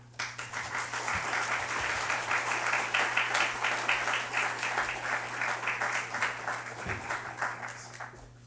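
A lecture hall audience gives sustained applause to welcome sportswriter Howard Bryant, a dense steady clapping that rises quickly, holds for several seconds and then gradually thins out.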